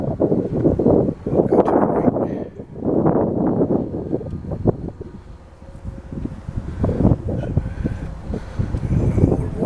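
Strong wind gusts across a cemetery at dusk, buffeting the microphone in heavy low rumbling surges that rise and fall, close and loud, with no speech.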